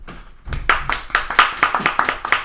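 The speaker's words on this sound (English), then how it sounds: "The DeStefano family is clapping for you." A small group claps for a student winner at a high school awards event, roughly a dozen distinct, close hand claps in an uneven rhythm with no talking over them.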